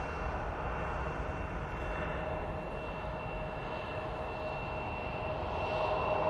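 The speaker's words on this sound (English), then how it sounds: "Beautiful 737 for Jet 2 departing there" Jet2 Boeing 737 departing Manchester Airport, a steady broadband jet engine roar heard from a distance, holding constant with a slight swell toward the end and no voices over it.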